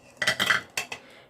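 A quick clatter of plastic Spectrum Noir Tri Blend markers tumbling into a bin, a short jumble of knocks followed by two lighter taps.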